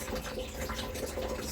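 Water rushes steadily through a toilet cistern once the flapper is released, a close, even flow with no talking.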